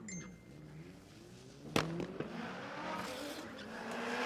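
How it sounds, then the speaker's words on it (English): A 2-litre Pinto turbo Ford Escort launches at a drag race. A faint engine drone is broken by a sharp crack, then rises into a rougher, building roar as the car pulls away, heard from a distance. "Off he goes, that little 2-litre turbo Escort."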